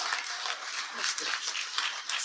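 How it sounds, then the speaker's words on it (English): Audience applause at a fraternity keynote event, a steady dense wash of many hands clapping throughout, fairly loud and close, with faint voices mixed in. "just give yourselves an applause."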